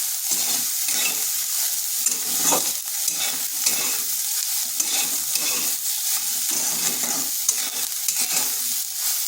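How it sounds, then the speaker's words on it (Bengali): Soybean chunks lightly frying in oil, a steady close-up sizzle that holds throughout with soft crackles and brief stirring scrapes. "খুব বেশিক্ষণ ভাজার দরকার নেই, হালকা একটু ভেজে নিচ্ছি"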